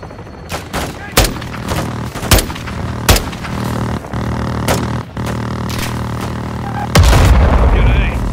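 Gunfire and booming blasts from an air strike hitting a building in the Modern Warfare 2 campaign, with sharp repeated cracks over a steady rumble and a heavy, loud explosion surge near the end, radio voices mixed in.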